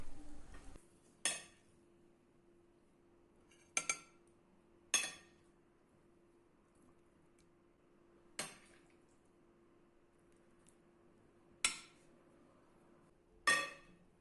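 A spoon clinks sharply against a dish about six times at irregular intervals while melted butter is stirred into manti, each tap close and bright and fading quickly into near silence between strokes.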